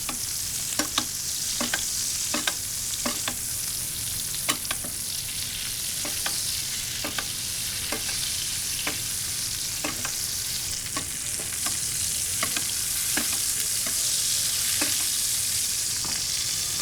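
A steak sears in butter in a pan with a steady, close hiss and crackle, while sharp ticks and spits pop through it at fairly regular intervals the whole way.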